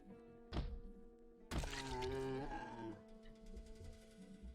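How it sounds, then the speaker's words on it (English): Zombies batter doors in the Project Zomboid survival game, two heavy thuds against wood, the second followed by a rattling, ringing resonance that slowly fades. "there are zombies banging on some of the other doors"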